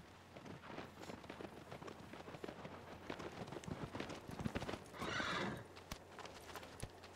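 Horse hooves clip-clop at a steady gallop through the Shadow of the Colossus game world, with a whinny and a brief rain-like hiss partway through, all moderately quiet with no talk.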